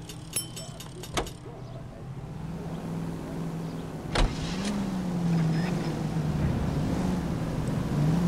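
A car in the video game L.A. Noire: a low engine hum idles and swells, with a couple of sharp knocks or door clunks along the way.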